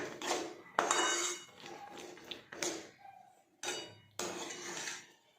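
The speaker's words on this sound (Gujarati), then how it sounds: "હવે આપણે જે દાણા છે તેને આપણે અંદર નાખી દઈશું અને બરાબર મિક્સ કરીશું" Metal spoon scrapes and clanks against a pan while peanuts are stirred into jaggery syrup for chikki, giving several irregular bursts of clinking separated by short pauses, close and fairly quiet.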